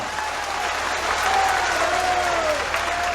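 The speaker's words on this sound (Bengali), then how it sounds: "মহামান্য কলকাতা হাইকোর্টের অনুমতি নিয়ে একবার হাততালি হয়ে যাক জুডিশিয়ারির জন্য।" A large outdoor political rally crowd claps for the judiciary, a steady, dense wash of applause held at even strength throughout, with faint voices underneath.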